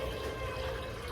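Water pours into a pot on the stove to make syrup for canning peaches, heard as a steady close rushing and splashing stream that runs without a break.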